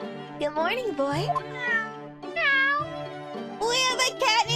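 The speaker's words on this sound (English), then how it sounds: "We have a cat named Bugga High" A cat meows repeatedly in a video game, several drawn-out rising and falling mews close by, with a voice speaking alongside.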